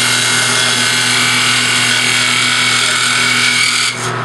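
A parting tool cuts into spinning wood on a lathe, a steady loud scraping hiss over the motor's constant hum, ending with a brief dip as the cut eases.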